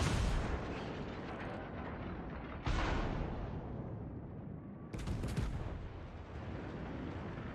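Naval artillery in the video game World of Warships fires twice, each a heavy booming blast followed by a long rumbling decay, loud and without talking.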